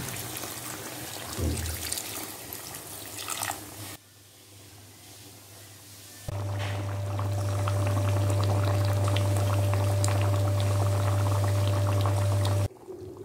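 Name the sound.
water poured into chicken curry, simmering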